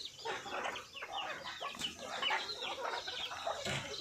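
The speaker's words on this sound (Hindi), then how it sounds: "ये देखो मेरे पास कितनी सारी मुर्गियां हैं" Desi Kadaknath chickens on a farm in Balod district, Chhattisgarh, cluck steadily and close by. Overlapping calls repeat throughout with no talking.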